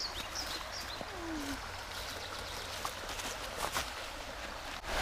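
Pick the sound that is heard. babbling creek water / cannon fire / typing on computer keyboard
babbling creek water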